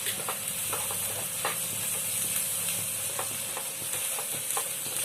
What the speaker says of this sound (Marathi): हे कच्चं नाही राहिलं पाहिजे त्यासाठी छान भाजून घ्यायचं.